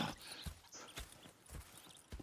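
Horses clip-clop in Red Dead Redemption 2, a handful of soft, spaced hoof thuds at an easy walking pace, faint and fairly close, with no talk.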